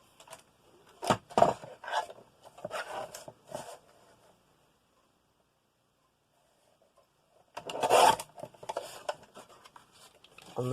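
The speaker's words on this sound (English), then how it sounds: "So I'm going to trim off this end panel again." A paper end panel being trimmed for a memory book, heard as two short bursts of close, dry cutting and scraping separated by a long silent gap.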